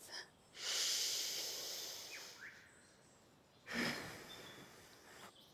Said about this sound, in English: Take a pause, take a breath.